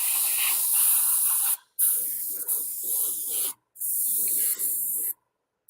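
An airbrush sprays in three long, steady hissing bursts, with brief pauses between them. The work is a live model build of an F-4U, and each burst sounds close and loud.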